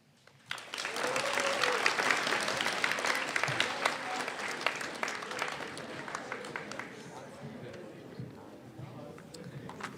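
A school audience at a grade 9 and 10 spoken word event bursts into loud applause for a student poet, clapping dense at first and then thinning out, with some voices in the crowd.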